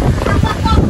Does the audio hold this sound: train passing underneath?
no